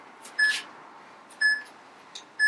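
A workout interval timer gives three short, faint electronic beeps at roughly one-second intervals, each a bright clipped tone over quiet room hiss.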